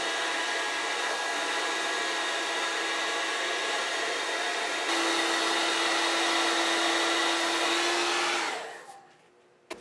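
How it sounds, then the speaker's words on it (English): Steady blowing whine of a heat gun heating a guitar nut for removal, running loud and alone for several seconds before the pitch drops and it winds down to silence. "we're going to start by heating this nut and getting it out"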